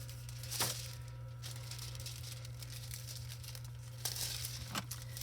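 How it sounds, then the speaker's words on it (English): A sheet of red foil is handled close up, giving faint crinkling and a few sharp crackles over a steady low hum, with quiet rustling in between. "Let me grab a piece of red foil here."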